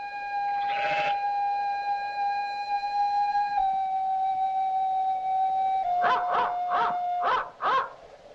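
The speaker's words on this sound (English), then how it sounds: "Oh, I always hoped there would be dogs." A long, steady, wailing howl from dogs, heard in a 1946 film soundtrack, holds for several seconds, then gives way to a rapid run of five or six loud barks.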